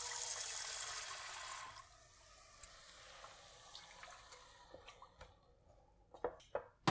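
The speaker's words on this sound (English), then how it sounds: "We want to also add about a cup of water." About a cup of water poured into a cooking pot of tomato paste for eech, a brief rushing pour at the start that fades into quiet simmering crackles and small drips, no voices.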